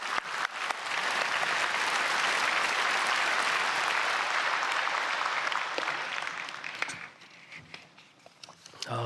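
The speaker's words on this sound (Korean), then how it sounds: "우리 박수로 크게 감사하고 축복하겠습니다" A church congregation applauds at a special dawn service, with steady, full clapping that swells and holds for several seconds and then thins out into scattered claps near the end. No speech is heard.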